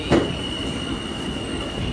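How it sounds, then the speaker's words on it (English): A subway train pulls into a New York station with a steady high-pitched wheel squeal over a low rumble and clatter, loud and close, with a sharp knock near the start. "Here goes the train,"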